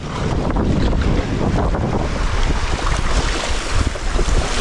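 Steady, loud wind buffets the microphone throughout while kayaking on a lake, with continuous low rumbling gusts and water noise and no speech.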